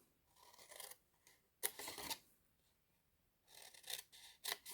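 Scissors cut along the side of a cardboard box in several quiet, close snipping and rasping bursts with brief pauses between them.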